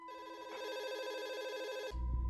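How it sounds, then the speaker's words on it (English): A phone rings with a bright, repeating electronic trill for about two seconds, close and clear, then cuts off abruptly as another sound takes over. "Just as we start dinner, my phone rings."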